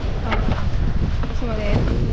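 Loud, blustery wind on a road trip in northern Philippines buffets the microphone in a constant low roar, with faint voices briefly audible underneath.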